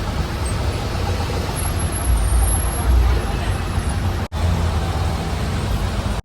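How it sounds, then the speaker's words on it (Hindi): Heavy congested traffic of trucks and buses in Manali, a constant low engine rumble with a swelling passage midway and a sharp momentary cutoff, heard close up with a faint high whine above. "आते ही बुरी ट्रैफिक में फंसा हूँ मैं।"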